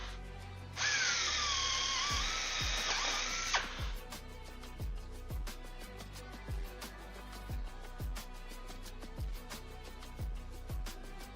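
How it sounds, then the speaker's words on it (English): A power drill whines loudly for about three seconds as it bores holes in an airplane's left side panel during a build, followed by a series of sharp, regular rivet-like taps. "We might not have drilled the other hole big enough"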